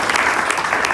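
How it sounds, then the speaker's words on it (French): Congregation applauding at a church service, a steady dense wash of clapping from many hands filling the whole second without a break. "Acclamons très fort les seigneurs."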